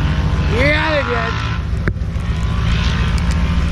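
Straight-piped Can-Am Maverick Turbo X3 off-road vehicle engine roaring outdoors, loud and close with a rising, falling rev sweep and a sharp pop, while people talk over it.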